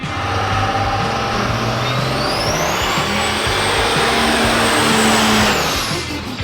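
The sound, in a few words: engine of a small-scale Peterbilt truck with a real engine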